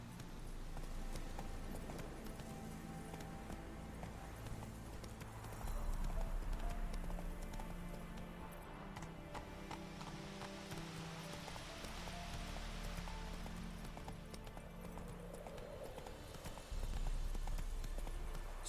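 Hooves of Geralt's horse Roach in The Witcher 3 clip-clopping steadily over a long stretch, a rhythmic trotting beat mixed with game ambience and music, with brief louder surges along the way.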